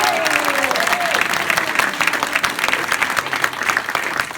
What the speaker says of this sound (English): Let's give the mayor another big round of applause.